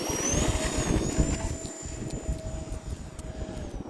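An E-flite A-10 Thunderbolt II radio-control jet with twin 64mm electric ducted fans makes a steady high-pitched whine and airy rush as it flies overhead on its maiden flight, with no voices.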